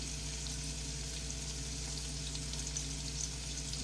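Shrimp coated in kitchen sink seasoning frying in a pan, giving a steady, close, even sizzle that runs the whole time with no talking.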